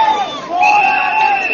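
A large crowd at an evening PAP political rally in Bukit Gombak Stadium chants a candidate's name, loud sustained voices rising into a rhythmic, near-constant chant.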